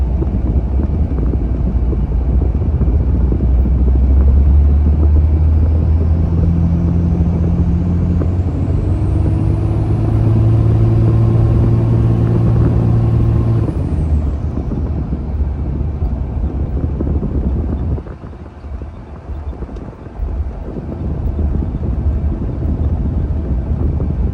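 Cummins diesel truck with a newly installed radiator driving, a loud continuous engine drone and road rumble with wind noise, the pitch rising and falling as it accelerates, then settling lower near the end.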